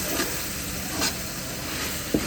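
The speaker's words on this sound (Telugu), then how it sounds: "జింజర్ గార్లిక్ పేస్ట్లో ఉన్న పచ్చి వాసన పోయినంత వరకు బాగా ఫ్రై చేసుకోవాలన్నమాట" Ginger garlic paste fries in a pan for a chicken biryani with a soft, constant sizzling hiss, broken by a few light stirring taps. The sound is fairly quiet and close, with no talking.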